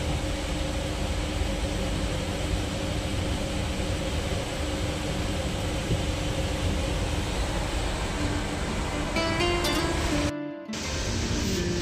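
Saraighat Express running late between Kolkata and Guwahati, heard from inside a first class cabin as a steady broadband rumble and hiss of the moving train, with a brief sudden drop near the end.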